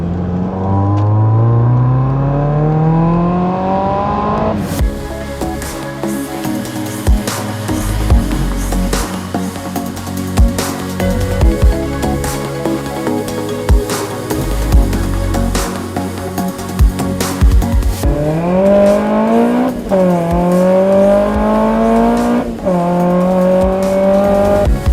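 A supercharged Mazda MX-5 NC fitted with a BBR kit accelerates hard through repeated gear changes, each rise in revs climbing steadily before dropping, with the supercharger whine layered over the engine and a few tire squeals, loud and close throughout.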